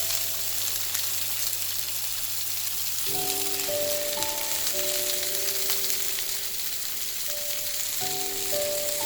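Har Fun Mola fish fry steadily in a pan, giving a close, continuous crackling sizzle that holds even throughout, with soft tonal background music playing underneath.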